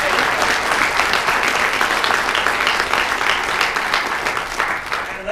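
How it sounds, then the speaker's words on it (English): Conference audience applauding after a talk on Apache Cassandra and Apache Spark, a loud, dense and sustained wash of many hands clapping at once that tapers slightly toward the end. "I first want to give a great big round of applause to Patrick McFadin"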